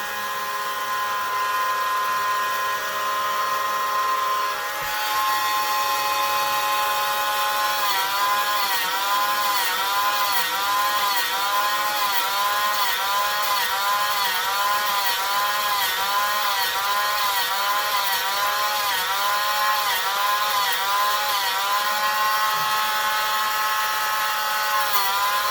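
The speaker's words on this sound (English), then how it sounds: "To do that, I'll be using my Rotary tool." A rotary tool trims and grinds the rough, glue-crusted edges of a foam dagger, a loud continuous high-pitched whine with wavering pitch as the bit bites into the foam, running steadily and up close with no voices.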